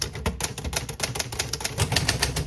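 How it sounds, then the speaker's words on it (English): An Olivetti Studio 44 typewriter with Elite type is typed on: rapid, close, crisp keystrikes in an uneven, busy rhythm, each clack sharp and percussive, with no talk. "Here is a typing sample from the Olivetti Studio"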